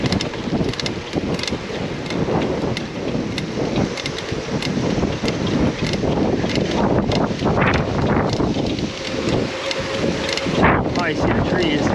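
Wind buffeting the microphone while moving forward along a road past trees, a loud continuous rumbling roar that fills the whole stretch, with a faint brief whoosh near the end.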